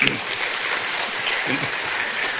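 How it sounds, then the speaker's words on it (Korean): A church congregation claps in thanks, a steady, even wash of applause with some voices faintly audible beneath it. "우리 성가들을 축복하신 주님께 감사의 박수 칩시다"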